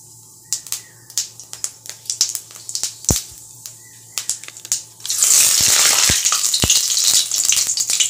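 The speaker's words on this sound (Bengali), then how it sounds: "তার জন্য তেলে প্রথমেই সাদা জিরে আর তেজপাতা ফোড়ন দিয়ে নেব" Cumin seeds and a bay leaf crackle in hot oil, starting as scattered sharp pops, then a dense loud sizzle bursts in with more crisp pops on top, close and without talk.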